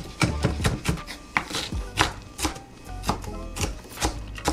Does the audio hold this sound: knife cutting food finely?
yes